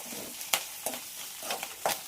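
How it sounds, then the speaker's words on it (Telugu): Beetroot pieces with curry leaves frying in a pan, a soft steady sizzle broken by several sharp scraping stirs of a spatula, close and moderately quiet. "ఇవి మంచిగా గోల్డెన్ బ్రౌన్ వచ్చేంత వరకు వేయించుకోవాలి."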